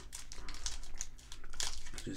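Foil wrapper of an Upper Deck AEW wrestling trading card pack crinkling and tearing as it is opened, close and continuous, with brief sharper rips.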